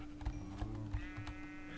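A white sheep bleating in Minecraft, a short game-animal cry heard a couple of times over a low steady background hum, fairly faint and close.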